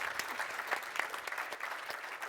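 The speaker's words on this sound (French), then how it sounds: "On peut les applaudir." Audience applause at the close of a conference panel on sustainable mobility, a steady patter of many hands heard at moderate distance, fairly quiet and continuous with no talk over it.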